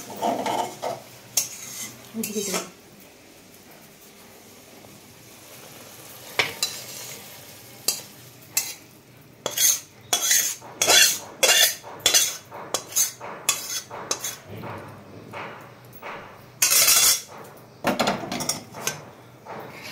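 Mustard prawn curry scraped and tipped out of a pan, with a faint sizzle under repeated sharp metal clinks and scrapes of a spoon against the pan, coming in irregular bursts.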